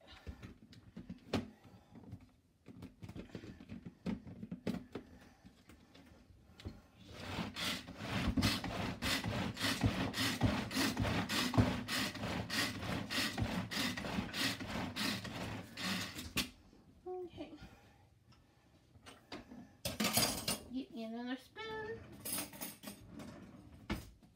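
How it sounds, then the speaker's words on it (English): Garlic aioli dip is whisked briskly in a bowl, a rapid rhythmic scraping that runs steadily for several seconds, followed by a few scattered clinks and taps. "Now let's give that a whisk."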